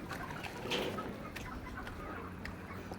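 Chickens cluck softly in the background, a few scattered low calls over a quiet outdoor ambience.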